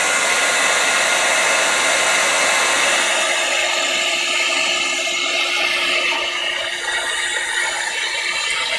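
A heat gun melting ultra fine embossing powder runs with a loud, steady blowing whir, close and constant throughout, with only slight shifts in tone.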